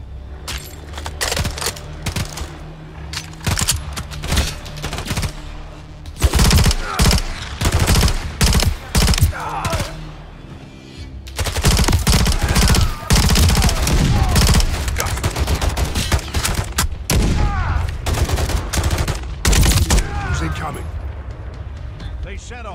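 Sustained automatic gunfire and sharp rifle bursts ring out loud and close during a Call of Duty: Modern Warfare campaign battle in a frozen tundra, rattling in long volleys with brief gaps while voices shout over the fighting.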